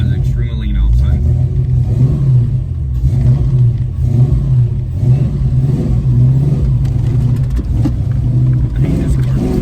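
A car fitted with Holley fuel injection revs and runs lean, its engine surging in a low, uneven rumble that holds up close throughout while someone talks over it.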